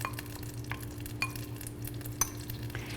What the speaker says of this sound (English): you just wanna occasionally stir until we get that butter totally melted and we get that sugar completely dissolved into the filling